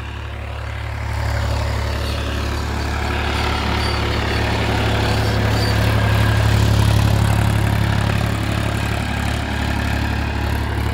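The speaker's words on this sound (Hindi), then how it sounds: "और अब ट्रैक्टर यहाँ जुताई कर रहा है" A Massey 245 tractor ploughs a field, its engine a steady low rumbling drone that swells slightly midway and carries on without pause.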